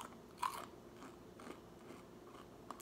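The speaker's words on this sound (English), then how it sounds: "They're super crunchy on the outside, nice tender on the inside." Crunchy Fast Fixin's, crisp outside and tender inside, are bitten and chewed, giving a few quiet, close crunches with a sharper bite near the start.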